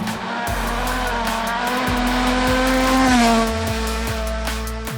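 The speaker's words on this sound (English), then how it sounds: "Nice cheeky bit of clutch slip there from Gregoire." A rally car pulls away from the start line with clutch slip, its engine holding a loud, rising, strained drone that climbs steadily in pitch and then eases as the gears change, close and continuous, with no talking.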